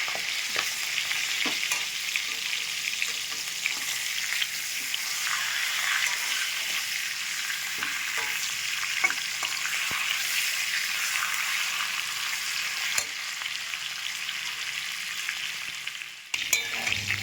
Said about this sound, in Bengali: মাছের মুড়োটা ভালো করে লাল লাল করে ভেজে নেব।